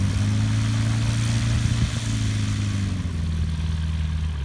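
A kit plane's engine powers up for takeoff from a grass strip, a loud, steady droning hum whose pitch settles slightly lower toward the end, with no voices.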